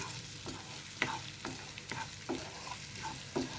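Ginger garlic paste frying in oil for mutton pickle, a soft continuous sizzle broken by regular scraping stirs about every half second, heard close and alone.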